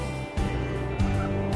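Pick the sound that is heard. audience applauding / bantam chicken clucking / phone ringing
bantam chicken clucking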